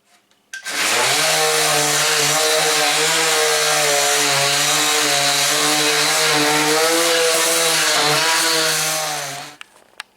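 A power sander works on the hatch of a homemade teardrop trailer, spinning up abruptly and holding a loud, steady, buzzing whine for about nine seconds before winding down. It is close and heard alone, with no talk.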